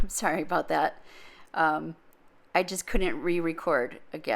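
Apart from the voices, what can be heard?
No everyday noises stand out.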